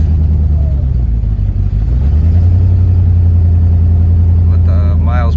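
A 1993 Ford Mustang GT with a 5.0L engine and automatic transmission drives at speed, its steady loud engine drone dropping in pitch as the gear shifts down into drive, then holding a deep rumble.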